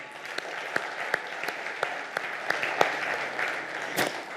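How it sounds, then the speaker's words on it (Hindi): Audience at a Hindi-language public speech event, R. Bharat Manthan, breaks into steady applause, a dense wash of many hands clapping with a few sharper claps standing out, sustained throughout without speech. "मैं चाहता हूं एक बार अपने अभिनंदन में, अपने स्वागत में आप तालियां बजा लें।"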